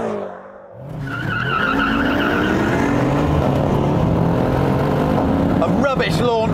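A BMW M6 Gran Coupe launching hard, engine revving up loudly with rising harmonics and tire squeal, close and sustained after a brief quiet start.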